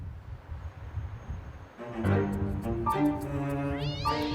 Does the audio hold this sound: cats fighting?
yes